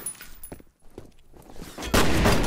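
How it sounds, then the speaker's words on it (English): A single loud shotgun blast from the shooter game F.E.A.R. erupts near the end, following a stretch of quieter in-game ambience and scattered smaller noises. "got shot straight in the face with a shotgun"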